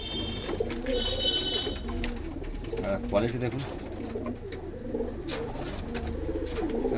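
Pigeons kept at a home in Andhra coo repeatedly in low, throaty bursts close by, mixed with someone talking.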